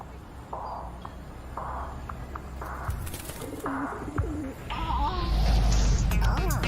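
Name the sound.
pigeons cooing in a video game trailer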